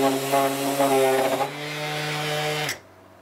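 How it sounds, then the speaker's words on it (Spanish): A battery-powered orbital sander fitted with 80 grit paper whirs loudly against wood, a steady close motor drone that holds and then winds down to a stop near the end. "Voy a usar esta lijadora orbital a batería"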